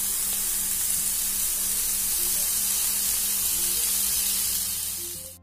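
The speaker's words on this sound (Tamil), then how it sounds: "நல்லா சுண்டையே அப்படியே வதக்கிக்கிட்டே இருக்கும்." Pirandai, or adamant creeper, sautés in oil in a pan, a steady, close sizzling hiss that holds evenly before fading out at the end, with no talking.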